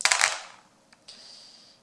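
A quick clatter of three dice tumbling onto a surface during a Galaxy Defenders board game, a burst of rattling clicks that fades, followed by a faint tap.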